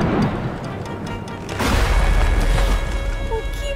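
A tree toppling in a cartoon windstorm, a low rumbling boom with a crash that swells up midway and holds loud to the end, with no talk over it.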